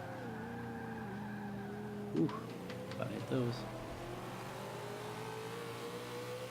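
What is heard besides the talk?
1966 Ford GT40 engine revving in the video game Forza 5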